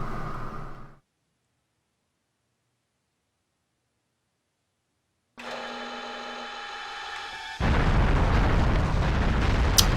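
A bomb explodes in the video game Hybrid Heaven: a brief rumble, several seconds of silence, then a humming tone that gives way to a loud, sustained roaring blast lasting to the end.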